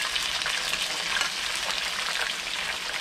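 Chopped onion goes into a hot pan of ginger sauce and sizzles with a steady, close frying hiss that holds for a few seconds without talk.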